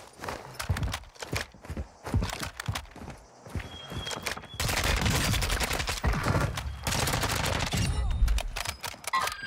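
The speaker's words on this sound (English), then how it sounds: "Where'd you just get sniped from?" Warzone 2 battle soundscape with a sniper gunshot among repeated sharp gunfire cracks, footsteps and a dense, loud burst of continuous firing in the second half.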